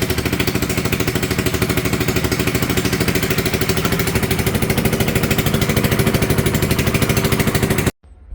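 Quad ATV (a Yamaha Warrior flip quad) with its engine running on choke at first startup, a loud, steady, rapid close-up chug that holds evenly for about eight seconds before cutting off abruptly.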